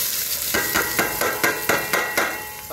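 Onions and finely ground chilli fry in a little oil in a pan, a steady sizzle broken by regular, even scrapes of stirring, close and fairly loud with no voices.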